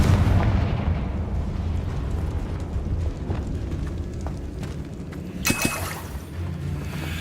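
A Confringo blasting curse goes off in Hogwarts Legacy. A sharp, bright burst hits about five and a half seconds in, above a low, rumbling game backdrop.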